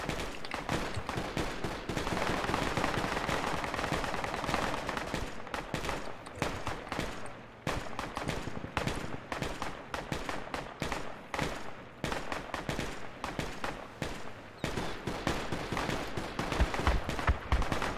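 Sustained heavy gunfire at an APC in the Project Reality military video game: dense rapid automatic bursts and fusillades, loud and continuous over a rumbling battle background for the full stretch.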